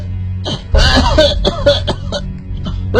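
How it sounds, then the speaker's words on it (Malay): A person coughs several times in short bursts, close and loud, with a throat-clearing quality and brief pauses between coughs. "Dari dalam dengar bunyi orang batuk."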